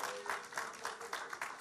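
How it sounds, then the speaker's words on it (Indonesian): Applause from a church congregation, a short burst of many hands clapping that swells and then fades slightly, moderately close in a roomy hall. "Kita beri aplaus."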